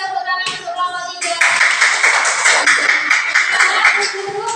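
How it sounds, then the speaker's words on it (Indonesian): A classroom of schoolchildren claps for a presenting group. Tonal voices come first, then lively, rapid clapping from many hands sets in and continues, with some talk underneath. "sekarang beri tepuk tangan untuk kelompok 3"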